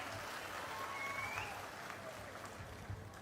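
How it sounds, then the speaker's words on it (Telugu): Faint applause from a gathered crowd, a soft steady patter of clapping heard from a distance at a public address, with a few thin whistle-like tones over it. "బాగున్నాయంటే చప్పట్లు కూడా చెప్పండి బాగున్నాయని"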